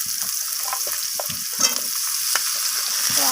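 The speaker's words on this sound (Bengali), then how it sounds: "আলুগুলোকে আমি নাড়াচাড়া করে ফোড়নের সাথে ভেজে নিচ্ছি।" Potatoes fry with whole tempering spices in a hot pan, a steady close sizzle broken by repeated scraping stirs and soft clatter throughout.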